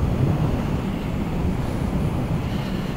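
Cold wind buffets the microphone in a steady, loud low-pitched rumble with gusty roughness and no other clear sounds.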